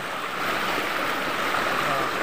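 River water flowing steadily at a fishing spot, a continuous rushing wash heard close and fairly loud with no break.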